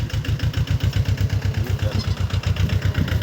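A tractor engine runs steadily at close range while ploughing a field in a farming village, its low rhythmic throb pulsing evenly throughout with no voices over it.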